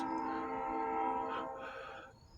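A train draws nearer, its steady low rumble carrying a sustained tonal drone that swells slightly and then fades, heard faintly and alone.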